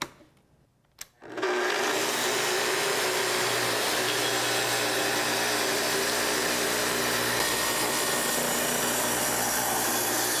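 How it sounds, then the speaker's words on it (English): A Festool TS55 plunge saw whines up after a brief quiet start, then holds a loud, steady, unbroken cutting roar as it advances through the workpiece along a guide rail. "To make your cut, first start the saw, then plunge down to your depth setting, and advance into the workpiece slowly."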